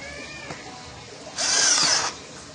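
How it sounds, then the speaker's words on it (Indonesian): A Hilda 16V brushed cordless drill bores a 24 mm spade bit into dry teak wood, giving one loud, high-pitched whirring burst of about three-quarters of a second before stopping. "Mata bor kipas 24 mili, ini di kayu jati kering ya."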